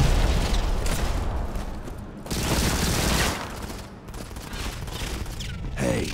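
Rapid bursts of automatic gunfire and booming impacts fill a Modern Combat 5 multiplayer firefight, loud and close, with short pauses between volleys.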